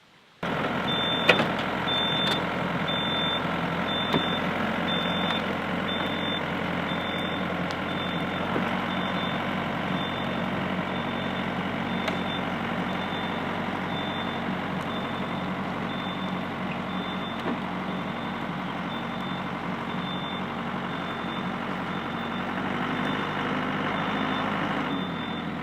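A tractor engine runs steadily throughout while a series of regular high-pitched reversing beeps repeat over it, loud and close, with no talking.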